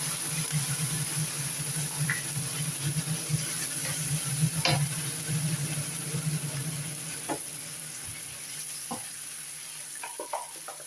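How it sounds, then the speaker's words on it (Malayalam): Ground masala paste sizzling in a pan for egg curry, a continuous moderate sizzle with occasional clinks and scrapes of stirring, no talking. "ഇനി നമ്മൾ ഈ അരപ്പ് ഒഴിച്ചു കൊടുക്കുക."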